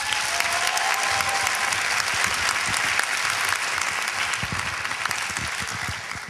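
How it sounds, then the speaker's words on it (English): An audience at a culture and psychology conference gives a sustained round of applause for the panelists, dense and even, tapering slightly at the end. "Let's give them a big round of applause."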